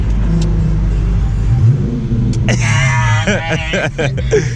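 A 2017 Dodge Challenger R/T engine rumbles loudly and steadily, then a voice cuts in over the running motor in the last couple of seconds.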